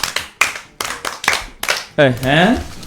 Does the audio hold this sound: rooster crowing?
no